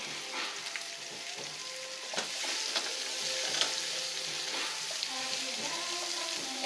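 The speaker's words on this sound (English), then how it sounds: "after I sear it over here" Butternut squash seasoned with salt and basil sears in a hot pan, giving a continuous close crackling sizzle with scattered sharp pops and a few faint stirring clicks.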